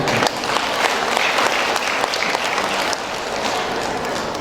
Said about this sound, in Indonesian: Dari tepuk tangannya nampak kurang ikhlas.